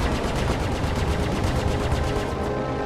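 Rapid gunfire hammers a ship's starboard shields in the Star Citizen space game, a dense, loud, evenly pulsing stream of impacts lasting throughout with no voices.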